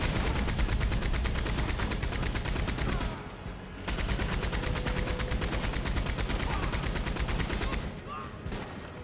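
A Maxim machine gun in Red Dead Online on PS5 fires long, dense, continuous bursts. The loud, steady rattle pauses briefly near the start, then resumes and keeps hammering before trailing slightly at the end.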